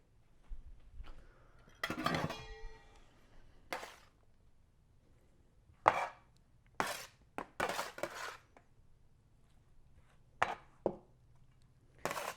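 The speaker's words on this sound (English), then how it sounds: "Let the chopping commence." Irregular sharp knocks of a knife chopping vegetables for salsa verde on a board, in short bursts and single strokes with pauses between, close and fairly quiet.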